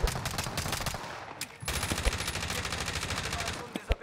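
Rapid automatic gunfire in the Warzone battle royale game, dense bursts of rattling shots that break off briefly near the middle and then resume, with a few louder single cracks near the end.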